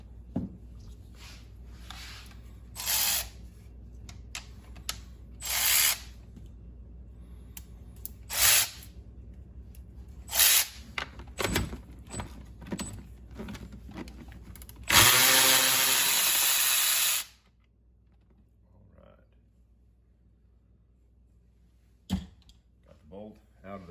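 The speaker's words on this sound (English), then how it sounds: "bolt here that holds this shifter on, so I'm going to take that loose" Loosening the shifter bolt on a Mercury outboard with a 1/2 inch socket, a burst of buzzing power-tool whir of about two seconds amid scattered metallic clanks and handling knocks, with someone speaking at times.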